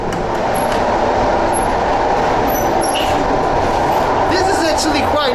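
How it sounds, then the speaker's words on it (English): Russian passenger train rolling along with a steady, loud rumble of wheels on rails and faint high squeals, heard from inside the carriage, with talk mixed in. "Let's explore this Russian train."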